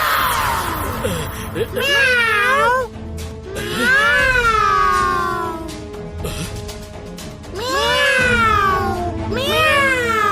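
A cartoon cat magician's drawn-out, sweeping meows, voiced by a person imitating a cat, repeat in several bursts over a continuous background, loud and close.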